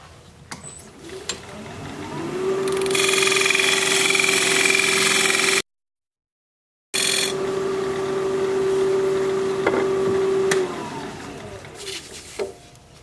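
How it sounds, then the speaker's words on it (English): A wood lathe spins a bowl blank while a 3/8 inch bowl gouge cuts into it. A steady motor hum carries a loud scraping hiss in the middle, broken by a brief silent gap, then resumes before easing off near the end. "That's a 3/8 inch bowl gouge I'm using."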